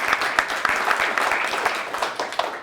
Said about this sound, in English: You get a round of applause, too.